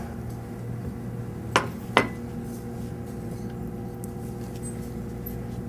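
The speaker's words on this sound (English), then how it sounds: "Then we'll take a baking ramekin, like this." A baking ramekin being handled in a kitchen, with two quick, light clinks about half a second apart against a steady background hum, and no talking during them.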